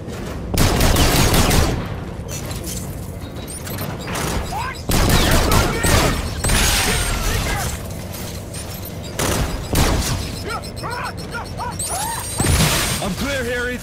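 Gunfire in Call of Duty: Infinite Warfare on PS4, with loud bursts of rapid automatic fire, single shots, impacts and whooshes in close, dense volleys throughout, and game dialogue heard between the shots.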